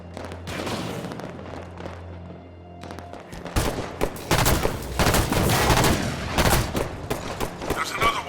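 Rapid bursts of automatic gunfire and explosions from Halo video game combat build into a dense, loud firefight after a quieter opening, with voices shouting under the shooting.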